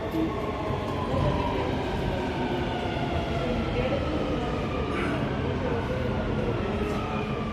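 A Dubai Metro train pulls into a station, its steady broadband rumble and rail noise filling the platform at a constant, fairly loud level throughout with no clear arrival peak.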